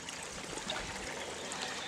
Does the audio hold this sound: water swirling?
yes